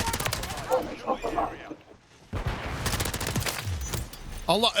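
Tempus Razorback rifle firing in Modern Warfare III, rapid bursts of close gunshots broken by a short lull, mixed with game effects and a voice talking over them.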